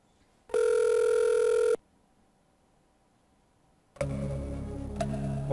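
Electronic telephone tones from the Game Boy Advance game Who Wants to Be a Millionaire: one long, bright, buzzing ring burst, a quiet gap, then a second sustained ring with beeping tones.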